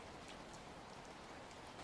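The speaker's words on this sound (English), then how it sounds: "Rain continues softly outside." Soft, steady rain falls outside at night, a continuous even hiss with no other sounds.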